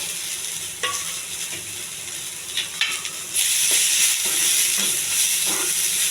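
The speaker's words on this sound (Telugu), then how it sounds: "ఇవన్నీ కొంచెం దోరగా వేగించాలండి, మాడిపోకుండా." Onions, curry leaves and green chillies frying in oil for semiya upma, a steady sizzle with scattered stirring scrapes, growing louder and hissier partway through.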